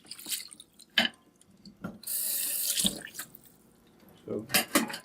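Kitchen sink tap running as something is rinsed while preparing blood clam ceviche, a steady gush of water broken by scattered clunks and splashes, close by.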